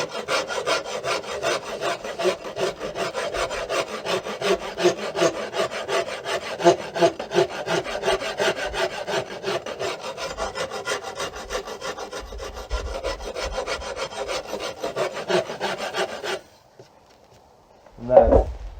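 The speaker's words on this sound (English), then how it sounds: "You could use any kind of file or rasp to do it, but I'm just going to be lightly and consistently taking off this corner." A farrier's rasp files the corner of a wooden self bow in steady, rapid back-and-forth strokes, close and continuous for about sixteen seconds, then stops; a brief scrape or knock follows after a short pause.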